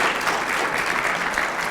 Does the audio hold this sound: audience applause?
yes